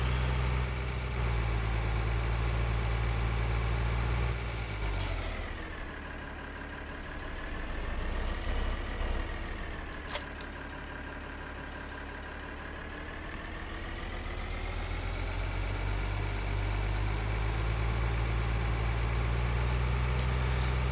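A tractor engine idles steadily in Farming Simulator 2013, a continuous low mechanical drone with a slight dip and swell in pitch midway, alone with no talk over it.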